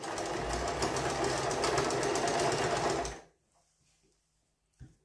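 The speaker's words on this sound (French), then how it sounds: "on enlève la première épingle et on va venir coudre" A sewing machine stitches a dress sleeve seam in a fast, even whir for about three seconds, then stops sharply, leaving near silence and a single faint click.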